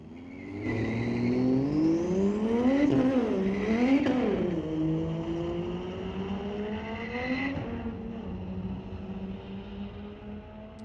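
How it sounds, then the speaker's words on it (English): A street-legal drag race car makes a pass at Mission Raceway Park, its engine revving hard and rising through gear changes as it roars past, loud and continuous over a steady crowd and track background. "Spectator side of the racetrack was a 15-second pass."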